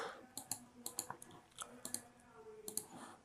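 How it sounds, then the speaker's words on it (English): Computer keyboard typing as a run of sharp, irregular clicks in small bursts, close and fairly quiet, with no speech. "So let me just try to type it here"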